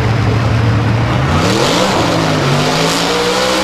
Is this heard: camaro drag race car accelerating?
yes